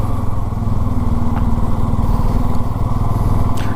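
A motorcycle engine runs steadily at idle outside a hotel in Bhimtal, Uttarakhand, a loud close throbbing rumble that continues alone.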